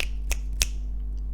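Finger snaps in a music production, two crisp sharp snaps evenly spaced over a low sustained drone, close and dry.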